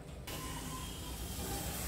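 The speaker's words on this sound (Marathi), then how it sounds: "हे काय अशी उकळी फुटली आता टाकायचं." Water comes to a boil in a pot for making shengole, a soft steady hiss and bubbling that starts abruptly and continues faintly at close range.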